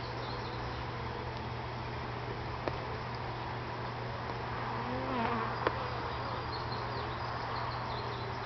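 Honey bees buzzing around an open beehive during an inspection, a steady close insect drone with a few brief sharper buzzes of individual bees passing near.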